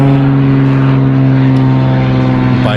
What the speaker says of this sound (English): there's a lot of planes coming, and when they come, they seem to scare the birds off as well